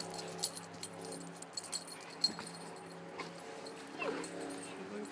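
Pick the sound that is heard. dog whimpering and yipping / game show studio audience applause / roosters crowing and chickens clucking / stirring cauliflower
dog whimpering and yipping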